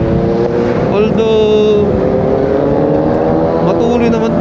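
Continuous humming engine drone from a Honda ADV 350 scooter on a long ride, steady and fairly loud with wind rush, while a rider talks over it.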